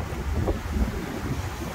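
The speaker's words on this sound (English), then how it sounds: "it is so windy" Strong wind whips across a Gulf beach at Manasota Key near Englewood, Florida, a loud, continuous low roar of microphone buffeting with a faint wash of surf underneath.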